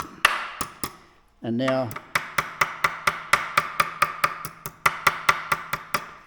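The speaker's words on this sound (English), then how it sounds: "try and hammer them down, but just hammer it down like that" Steady hammer blows ring out one after another in a quick, even rhythm, close and sharp, after a few opening strikes and a brief spoken phrase.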